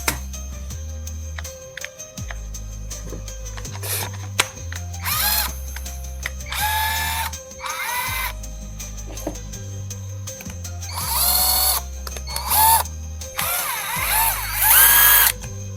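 A STHOR cordless impact driver fitted with a bit runs in repeated bursts, loud and close, its motor whine rising and falling between pauses with rapid hammering chatter in the stronger runs.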